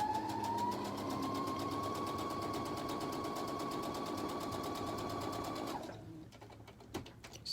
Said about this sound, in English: So I'm stitching the bias tape to the wrong side of my fabric.